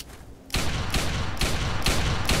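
Fallout 3 gunfire opens suddenly after a quiet moment and becomes a loud, continuous barrage with regular heavy pulses, about four per second, close and unbroken.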